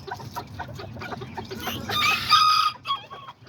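Kikiriki and Azteca chickens and roosters cluck and call close by, with a louder burst of crowing and squawks near the end.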